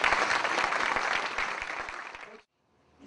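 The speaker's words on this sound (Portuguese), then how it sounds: "Pode aplaudir." Applause from a debate audience fills the hall, dense, steady and moderately loud, then cuts off abruptly after about two and a half seconds, leaving near silence.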